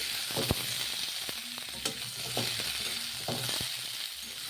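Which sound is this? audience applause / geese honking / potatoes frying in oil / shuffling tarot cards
potatoes frying in oil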